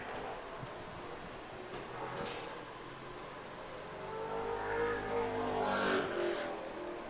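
A Ford Mustang super late model race car at Thunder Road Speedbowl completes a qualifying lap, its engine faint and distant at first, then swelling louder as it comes nearer and passes, no voices.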